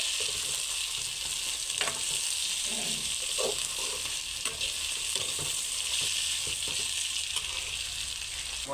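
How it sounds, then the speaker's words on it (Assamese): Potatoes and ivy gourd fry in a pan with a continuous, fairly faint sizzle, broken now and then by light stirring clicks. "এয়া হৈছে কুন্দুলি আলু ভাজি"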